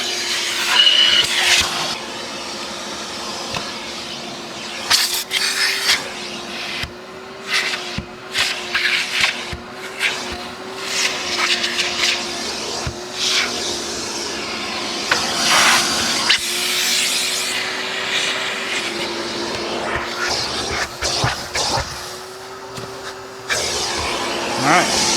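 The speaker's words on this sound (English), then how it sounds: "that's it for vacuuming" Vacuuming the interior of a Porsche 991.2 GT3 RS, a steady whining drone running throughout with brief drops and bursts as the nozzle moves around the cabin, close and fairly loud.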